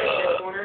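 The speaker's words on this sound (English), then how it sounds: "You just burped" A short, voiced burp, brief and close, rumbling for under a second.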